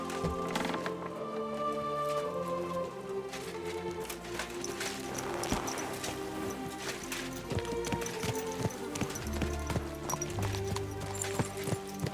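Hooves clip-clop steadily beneath a full orchestral score in the video game Kingdom Come: Deliverance 2, playing loudly throughout, the hoofbeats mixed in with the music rather than standing alone.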